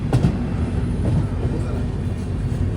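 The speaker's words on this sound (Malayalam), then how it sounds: "ട്രെയിൻ ഇപ്പോൾ ആലുവ റെയിൽവേ സ്റ്റേഷനിലേക്ക് ഇതാ എത്തുകയാണ്" The Tata Nagar Express pulls into Aluva railway station, a loud, close, continuous rumble of rolling carriages with soft wheel clatter and no talk.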